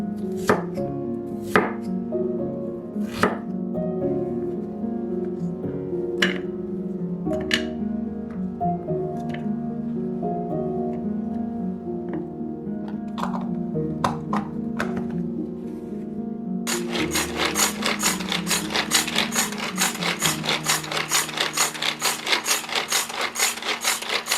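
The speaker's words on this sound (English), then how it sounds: "Today I'm using a hand grinder to finely mince it quickly and evenly" Fresh ginger minced in a hand grinder, giving steady scraping and rubbing with sharp chopping clicks at irregular intervals, close and moderately loud, then a faster dense buzzing grind in the last stretch.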